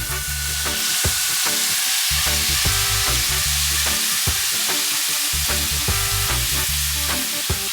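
Vegetables sauté in a pan for Jamaican brown stew chicken, giving a loud, continuous close-up sizzle broken by repeated scraping stirs with a rhythmic push-and-pull feel.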